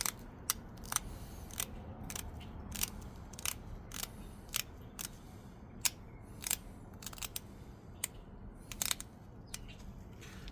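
Sharp, crisp clicks and crunches of thin basalt being pressure-flaked into a razor-thin side-notched arrowhead, repeated irregularly every half second or so over a steady low background, close and fairly loud with no talking.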